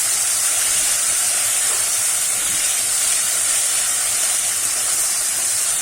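Water hits a pan of frying spice paste for a soybean curry, setting off a loud, continuous hissing sizzle that stays steady and close throughout.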